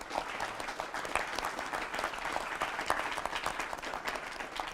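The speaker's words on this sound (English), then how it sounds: "let's give the panelists a round of applause" Audience applause for the panelists at a discussion on free markets and the Constitution, a full, steady round of clapping from a seated crowd lasting several seconds.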